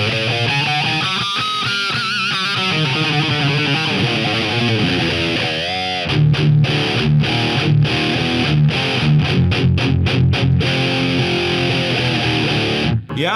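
Electric guitar played through an old RCE 5C tube phono amp set up as an overdrive, giving a loud crunchy distorted tone. Sustained chords and riffs give way to choppy rhythmic strums partway through.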